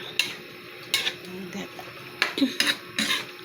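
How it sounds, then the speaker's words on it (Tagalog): A utensil scrapes and clinks against a pot while vegetables are stirred in coconut milk, a few short metallic knocks and scrapes that are close and moderately loud. "Haluin natin para hindi siya kumuro pa."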